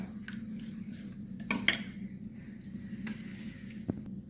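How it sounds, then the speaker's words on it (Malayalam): Egg dosa batter is mixed in a bowl, giving soft stirring with scattered utensil clinks against the bowl, close and fairly quiet. No one speaks. "ഇനി ഒന്ന് നന്നായിട്ട് മിക്സ് ചെയ്തെടുക്കാം"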